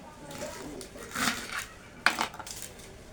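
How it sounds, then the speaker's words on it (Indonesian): Kitchen knife cutting through choy sum stalks on a board, a few soft chopping clicks and scrapes with a sharper knock near the end, close and moderately quiet. "Kita iris untuk sosin, dan ini batang bonggolnya kita buang."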